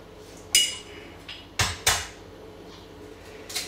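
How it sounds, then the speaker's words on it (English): A few sharp cracks of eggshell against a bowl rim, spaced apart, with faint kitchen clatter in a quiet room. "what we're going to do is break the eggs"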